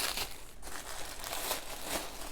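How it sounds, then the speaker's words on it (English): Crinkly paper and plastic packaging from a Halloween loaded envelope rustles and crumples up close in a steady, busy stream of crackles and small tears, with no voices. "So let's do some unwrapping."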